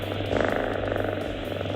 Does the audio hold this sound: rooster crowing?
no